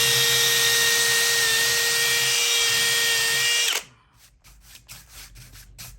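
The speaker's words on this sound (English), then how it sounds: "I'm simply going to drill this hole to depth." A power drill whines steadily at high pitch for several seconds boring a hole into a large wood bowl blank, then stops abruptly, leaving quieter scraping and knocking sounds.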